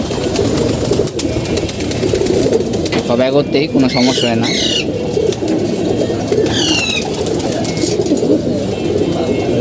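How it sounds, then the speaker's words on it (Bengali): Game pigeons coo repeatedly in a home loft, their throaty calls rising and falling close by while someone talks continuously over them. "যে কবুতরগুলো দেখতে পাচ্ছেন ভাই এখানে সব নর্মালি"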